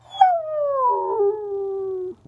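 A dog gives a single long, close howl that starts high, slides steadily downward in pitch over about two seconds, then cuts off abruptly.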